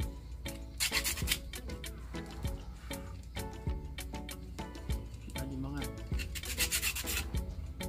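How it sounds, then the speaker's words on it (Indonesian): Sandpaper rubs repeatedly over the inside of a bracelet made from shark dorsal fin bone, a close, rhythmic scratchy rasping in quick strokes, with music playing and someone speaking over it. "gue rapihin pakai amplas."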